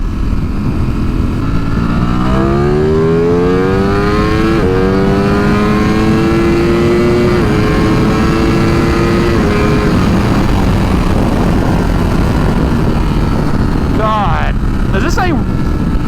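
A 2024 Ducati Streetfighter V4 engine with an OFT stage 1 flash revs hard and high, pitch sweeping up through several climbs and drops, loud and close, with a final sharp burst near the end.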